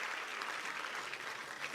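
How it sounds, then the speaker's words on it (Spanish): A church congregation claps and applauds during a sermon, a dense sustained round of clapping that stays loud and steady from start to finish with no speech over it. "tú aplaude al Señor"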